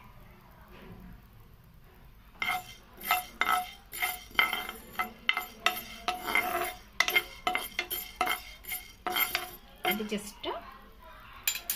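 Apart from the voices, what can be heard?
fenugreek seeds being roasted and stirred in a kadai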